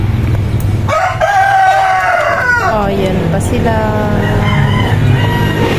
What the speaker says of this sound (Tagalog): Ayan ba, may mga manok pa.